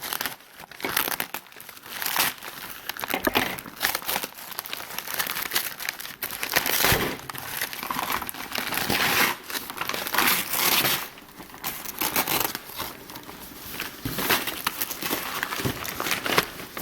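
Plastic and cardboard packaging around a figure is torn and crinkled open by hand, with close, busy bursts of ripping and crackling in irregular spurts.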